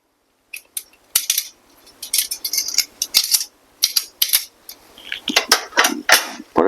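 A spoon scrapes and clinks against a plate while potatoes are scooped up and served beside a BBQ pork chop: a quick series of bright metallic taps and clatters, close and fairly loud, with no talking.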